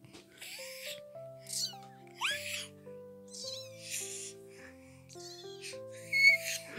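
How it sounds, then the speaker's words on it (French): A domestic cat at home gives a series of short meows and drawn-out calls, close and fairly soft, over a quiet background with a sustained melodic tone running underneath. "Il fait ça le chat."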